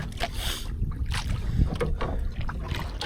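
A fishing boat engine runs out at sea during handline sardine fishing, a steady loud rumble mixed with heavy wind buffeting the microphone and splashing water, with no voices.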